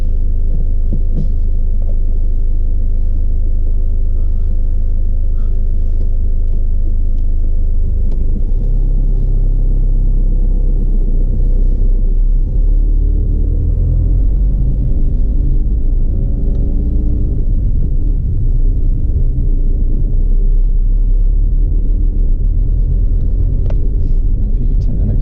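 Low, throbbing engine rumble of a car pulling away on a road during a driving test, heard from inside the cabin, loud and steady, deepening as it moves off.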